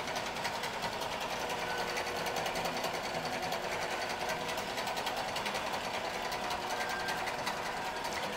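A QBOT V3 robotic quilting machine stitches an edge-to-edge pattern on a heavy machine, giving a rapid, steady mechanical hum and needle chatter that runs unbroken and fairly quiet.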